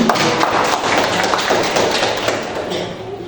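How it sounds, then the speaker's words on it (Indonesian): A high school chemistry class claps together in dense, loud applause that fills the room steadily for a few seconds. "Oke, kasih aplaus dulu."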